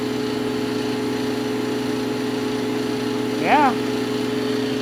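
A 20-inch planer fitted with a spiral cutterhead runs with a steady, oddly quiet mechanical hum and tonal whine throughout, near and constant, with a brief spoken word partway through.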